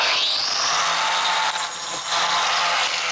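A Kaindl multi-purpose saw blade cuts through hard plastic cable conduit with a loud, continuous, high-pitched grinding whine that dips briefly midway before resuming at full strength.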